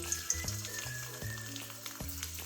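Finely chopped garlic sizzles softly in hot oil in a pan for a prawn dish, a faint steady frying hiss with a few light stirring knocks.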